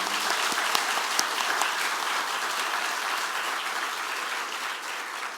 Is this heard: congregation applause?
yes